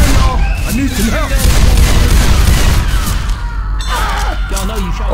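Shots fired at a witch in the video game Left 4 Dead 2, loud booming bursts of gunfire mixed with game noise and overlapping shouting voices.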